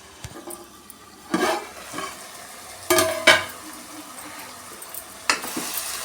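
Chicken frying in a pan for a home-style chicken fry, with a soft background sizzle broken by a few loud bursts of spoon stirring and scraping against the pan.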